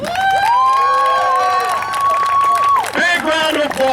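A wrestling show crowd cheers and applauds in a loud, continuous roar, with one long sustained yell standing out above the noise.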